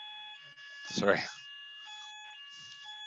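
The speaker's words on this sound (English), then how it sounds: "so we've got a fire alarm going off" A fire alarm sounds indoors with steady high-pitched tones, ringing loudly and continuously under a person speaking briefly.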